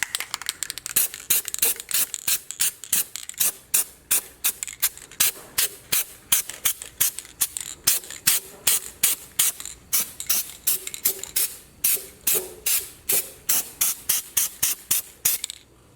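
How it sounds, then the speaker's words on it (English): Steelit powder coat sprayed onto Jeep Cherokee Chief leaf spring shackles in rapid short hissing bursts, dozens of evenly spaced spurts each ending in a faint click, close and loud with no talk. "Now I'm about to powder coat it with some Steelit."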